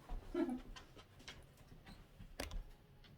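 A visually impaired dog sniffs eagerly at a dust towel indoors, with quick close snuffling bursts and soft panting, a louder sniff near the start and another near the end, no talking.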